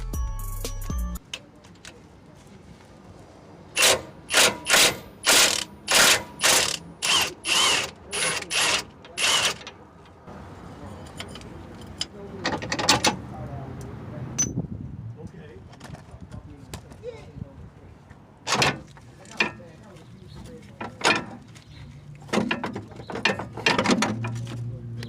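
A ratchet with a 15mm socket clicks in quick, loud bursts of strokes on the axle-side track bar bolt of a Jeep front track bar, close up, then further scattered ratcheting follows, with someone talking between and over it.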